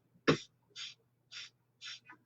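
Four or five muffled, suppressed coughs come in a slow series, the first sharper and louder, the rest soft closed-mouth bursts, alone against a faint low hum.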